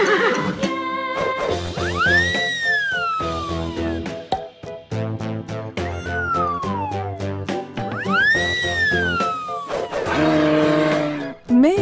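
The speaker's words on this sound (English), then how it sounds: "Horse." A cartoon horse neighs in loud, repeated whinnies with rising and falling pitch, interleaved with rapid rhythmic clopping, close and clear without speech.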